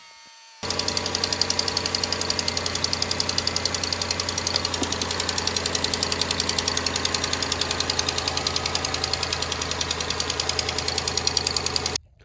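A 5.7L Hemi V8 in a Jeep Grand Cherokee runs at idle after valve cover gasket work, a steady close rumble with a fast rhythmic ticking knock that starts abruptly and cuts off at the end.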